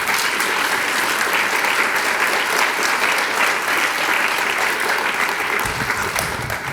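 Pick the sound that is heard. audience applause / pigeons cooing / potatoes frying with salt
audience applause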